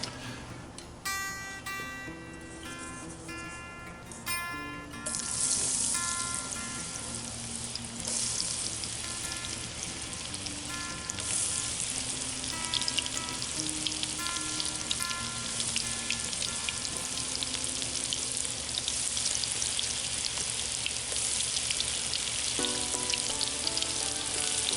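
Cornmeal-coated okra frying in a pan of hot oil, a steady dense sizzle and crackle running throughout, with a brief tonal musical passage at the start and near the end.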